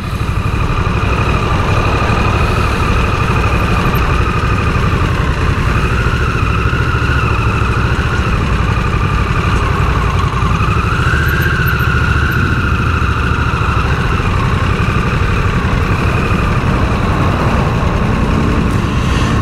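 A Harley-Davidson Nightster motorcycle engine drones steadily while riding, a loud continuous rumble with slight pitch swells as the throttle shifts, and wind noise mixed in, with no one talking.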